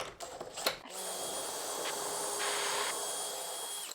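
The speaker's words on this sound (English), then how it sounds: "you'll want to make sure that you're drilling the right direction. So into the wood," A few quick knocks, then a power drill whirs steadily for about three seconds, close and fairly loud, with slight shifts in pitch as it bites into plywood.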